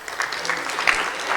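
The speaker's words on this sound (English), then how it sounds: "One more round of applause for these guys." Audience clapping at a high school end-of-year awards ceremony, a brisk, continuous patter of many hands at moderate volume, with faint voices mixed underneath.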